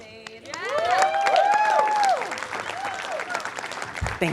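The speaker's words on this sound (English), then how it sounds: "We're going to give a round of applause for Zaid." Applause from an audience, loud and steady, with a voice or whistle-like tones rising over the clapping before it fades slightly.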